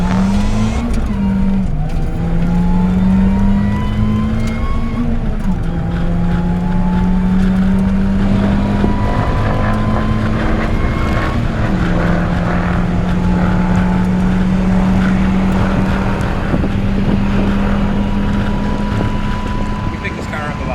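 A supercharged Mazda Miata MX5 accelerates hard through its gears on half-mile race passes, a loud buzzing engine note rising and shifting repeatedly under heavy wind noise, close and continuous.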